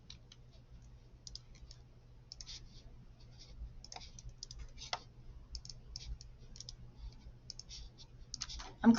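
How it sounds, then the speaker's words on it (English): Computer mouse buttons click in scattered, irregular bursts over a low steady hum, quiet and close, with a slightly louder cluster at the very end. "I'm clicking everything."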